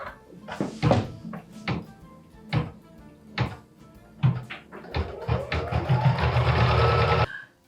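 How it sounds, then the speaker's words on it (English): An embroidery machine stitches the batting tack-down line on a Kimberbell Cuties quilt block, starting with scattered knocks and thumps before settling into a steady, fairly loud run of rapid stitching. "ready to take this to the machine and stitch the batting tack down line"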